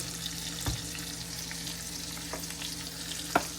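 A whole yellowtail snapper fries in oil with a soft continuous sizzle, broken by a few sharp pops and crackles, heard close with no talk.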